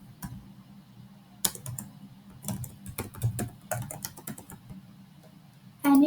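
A password is typed on a computer keyboard during a software login setup: a quick run of light, irregular key clicks, close and moderately loud, with a few stronger taps and a firmer press near the end.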